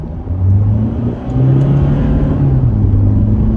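A Toyota Fortuner SUV launches hard from a stop, its engine roaring loud and close as it revs up, with a brief dip at a gear change before the strained acceleration continues.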